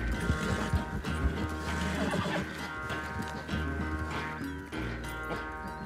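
A horse gallops and neighs in Red Dead Redemption 2, with a steady clip-clop of hooves and whinnies over a constant bed of game music and ambience, loud and close throughout.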